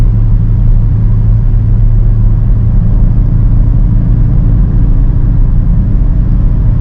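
Deep, even V8 engine drone from a 2023 BMW XM holds steady and loud for several seconds, a smooth idle rumble with no voices.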